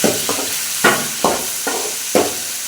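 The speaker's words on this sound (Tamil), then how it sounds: "தக்காளி பழத்தை போட்டு வணக்குங்க" Tomatoes sautéing in a pan with onion, a soft frying sizzle broken by about six scraping stirs of a spoon at a brisk irregular rhythm, close and clear with no talking.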